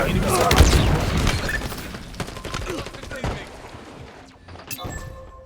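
Dense gunfire in a Halo Infinite 4v4 Arena Slayer match on the Bazaar map: rapid bursts and booming shots, loud and busy at first, then thinning to scattered cracks, with game callout voices mixed in.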